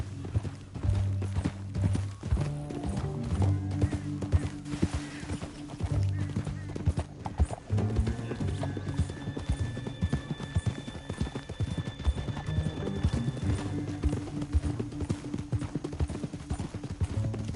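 Horse hooves clip-clop steadily in the Red Dead Redemption 2 video game, a continuous rhythmic trotting close by over a low ambient bed, with a brief whinny and faint game sounds mixed in.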